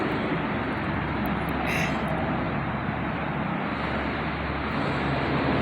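Steady, broad roar of cars streaming across a big road overhead, heard from beneath the bridge near a river trail, a constant dense wash of traffic noise with no breaks.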